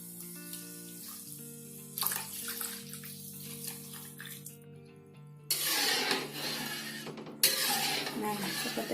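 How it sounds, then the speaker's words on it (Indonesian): Coconut milk mixture made with Kara brand coconut milk poured into a pot for cooking tempeh and tofu bacem, a steady liquid splashing and trickling in bursts, loud and close, over background music. "kemudian beri air santan yang tadi sudah kita campur"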